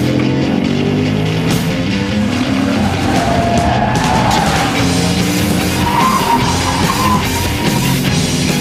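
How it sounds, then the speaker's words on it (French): An Audi RS4 sports saloon braking hard from high speed, a loud continuous roar of engine and road with faint tyre squeal rising partway through, close and unbroken. "T'exploses la pédale de frein, même à haute vitesse, la voiture elle bouge pas."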